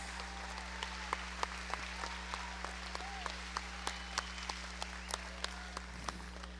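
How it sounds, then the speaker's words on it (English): Sparse, scattered clapping from a small crowd at a 4-H county fair swine show honoring ten-year members, with individual claps distinct over a constant low electrical hum. "Let's give a nice round of applause to all of our 10-year Swine members."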